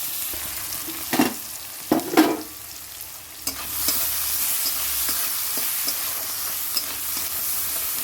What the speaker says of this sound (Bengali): জিরে দিলাম আর লঙ্কা দিলাম তেজপাতা দিলাম এবার পেঁয়াজটা দিয়ে দেবো পেঁয়াজটা দিয়ে দিলাম পেঁয়াজটা দিয়ে নাড়াচাড়া দেবো